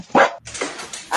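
A dog barks in a short burst of three or four quick, close woofs with a brief gap after the first, clear and fairly loud.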